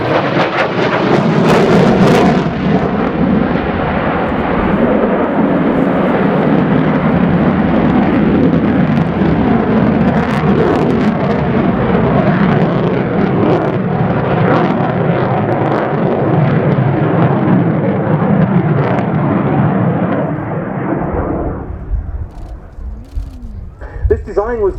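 A Ukrainian Air Force Su-27P1M Flanker jet flies a display at an airshow, its engines a loud continuous roar that rumbles on for over twenty seconds before fading away into the distance.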